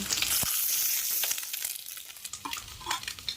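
Halved boiled eggs fry in hot oil in a pan, crackling and sizzling loudly and close, with scraping stirs and spatter across a few seconds.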